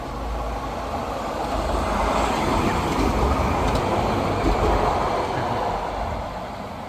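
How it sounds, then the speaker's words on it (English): Steady rumbling of a cable-hauled tram climbing on a pulley system in Malaysia, a broad continuous roar that swells slightly in the middle and eases off toward the end. "So that tram runs on that pulley system"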